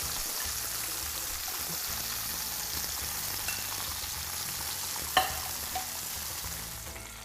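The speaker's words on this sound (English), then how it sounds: "Now my mushrooms are cooking away" Mushrooms fry in olive oil in a pan with a steady, soft sizzle throughout, broken only by a single sharp clink of a utensil and a couple of faint taps.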